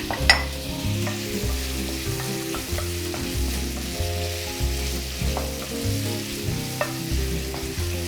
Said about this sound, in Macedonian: Додека пилешкото ни се пржи